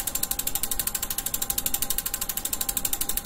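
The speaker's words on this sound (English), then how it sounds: "So we're going to spin the wheel and see what prize Sharon gets to take home." Prize wheel spinning at a giveaway, an even, rapid train of ratcheting clicks that keeps a steady pace throughout, loud and close with no voices.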